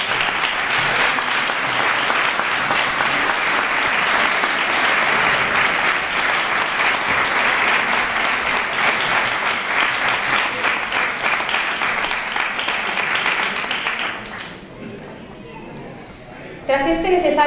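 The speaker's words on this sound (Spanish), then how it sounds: "le ofrecemos el primer aplauso de esta tarde que hoy le rinde nuestro público" A theatre audience at a jota gala in Puerto de Sagunto gives a tribute ovation: dense, steady applause holding for about fourteen seconds, then thinning and fading as a voice returns.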